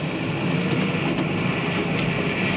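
A farm tractor engine-braking as it rolls downhill, giving a loud, steady broadband drone that holds without a break and has no talk over it.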